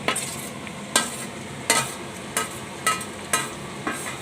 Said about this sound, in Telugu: సో ఇప్పుడు మనం పొటాటో అండ్ బీన్స్ కూడా వేసేసుకోవచ్చు.